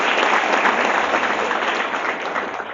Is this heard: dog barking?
no